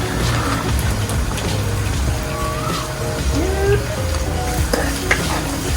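Garlic and sugar stir-fried in a pan for a Thai fried tilapia chili sauce: continuous loud sizzling with scraping utensil strokes and clinks against the pan throughout.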